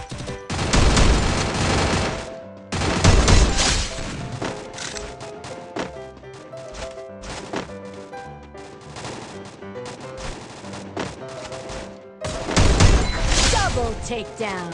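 Rapid bursts of video-game gunfire, loudest at the start and again near the end, play over steady in-game music with quieter stretches of shooting in between.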